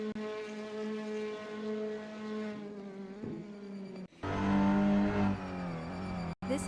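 Racing car engine in the touring car game SimSpeed Touring Car Series, a loud sustained drone with harmonic whine that rises and falls through gear changes, cutting out briefly before resurging.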